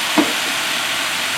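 Steak basted with butter and thyme in a pan, giving a loud, steady, close hiss of frying with a brief spoon clink near the start and no speech.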